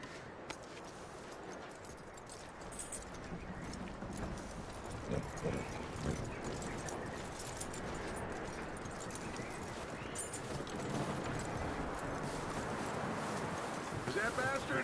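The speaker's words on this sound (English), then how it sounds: "That looks like a decent horse." Horse hooves clip-clopping in the Red Dead Redemption 2 video game, a steady stream of hoofbeats with wind noise, running for the whole stretch under a fairly quiet, continuous ambience.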